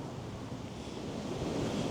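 Strong gale-force wind beside a small river rushing and buffeting against the microphone, a steady broad roar with no voices.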